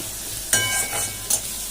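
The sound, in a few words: frying onion, green chilli and potato in a pan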